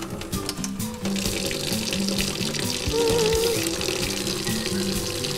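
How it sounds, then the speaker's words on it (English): Tap water running steadily into a cooking pot for noodles, a continuous close splashing rush that thickens slightly as the pot fills, with no talking. "I'm just gonna put some water so that we can boil"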